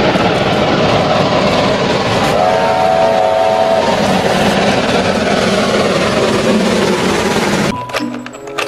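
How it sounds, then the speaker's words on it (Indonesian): A video game steam locomotive rumbles steadily with a loud, dense chugging roar and a brief whistle tone, then cuts off abruptly near the end. "ini kereta api uap."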